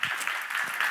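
A brief, dense burst of audience clapping at a church seminar, a fairly close crowd applauding steadily for under a second.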